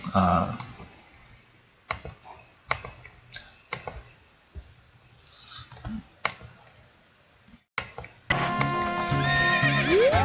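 Epona, the horse in the video game Ocarina of Time, with clip-clopping hooves and scattered clicks building to a loud, close neigh, game-style and without talking.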